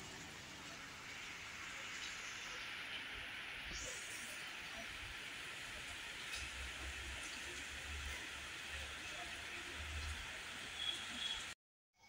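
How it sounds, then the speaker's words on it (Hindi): Heavy rain pours down in a steady, hissing wash, continuous and somewhat distant, with faint low rumbles underneath. "अभी बारिश अभी भी लगी हुई जोरों शोरों से"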